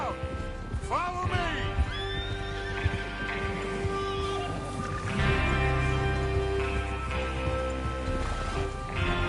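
Horses in Red Dead Redemption 2 whinny and snort near the listener while hooves clip-clop steadily underneath, set over a sustained musical score with tonal layers.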